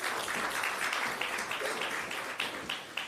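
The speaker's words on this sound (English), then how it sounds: "another big round of applause for" An audience at a national health research conference's opening ceremony claps together, a dense, continuous patter of many hands at fairly even loudness throughout.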